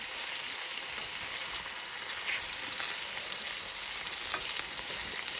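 Thick chicken breast pieces fry in flavoured oil with a steady, close, dense sizzle and crackle, alone and without talk.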